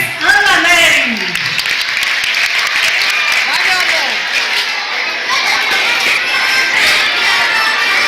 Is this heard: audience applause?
yes